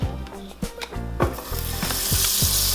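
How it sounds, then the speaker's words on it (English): Dairy-free butter and oyster mushrooms hit a hot pan and sizzle loudly up close, the hiss building into a steady roar with a few clinks and scrapes of a utensil, no talking. "So now I'm adding some dairy-free butter"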